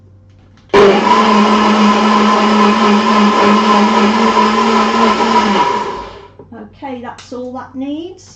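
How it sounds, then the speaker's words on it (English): A NutriBullet blender whirs loudly and steadily for about five seconds, a dense mechanical drone that winds down and stops, followed by a person speaking. "then I'm going to put it into my NutriBullet"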